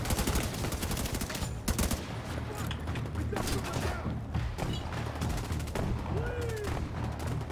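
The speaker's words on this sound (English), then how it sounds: "These guys are shooting behind cover and they somehow haven't killed him yet." Gunfire from enemies shooting from behind cover in The Division 2, rapid bursts of shots and thuds rattling on over a steady low rumble, with no talk.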